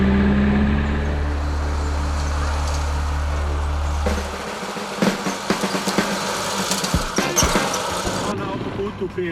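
A small motorcycle engine runs steadily at close range, a low droning hum that gives way to rattling, uneven bursts and clatter partway through, loud and continuous throughout.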